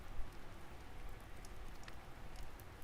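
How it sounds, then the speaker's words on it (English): Rain falls in a faint, steady hiss with scattered soft droplet ticks, continuous and even with no voices. "The rain's coming back"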